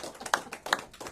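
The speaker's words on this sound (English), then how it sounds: "Y'all can clap your hands up for her." Short bursts of audience hand clapping, a few sharp claps standing out near and moderately loud at a go-go radio broadcast.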